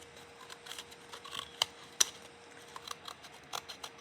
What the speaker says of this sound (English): Cut the edges a little bit.